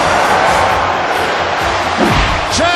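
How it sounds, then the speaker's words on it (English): A capacity crowd chanting in an arena during a wrestling video game match between Kazuchika Okada and AJ Styles, a dense loud roar throughout with a thud and an announcer's voice near the end. "Chant going on from this capacity crowd"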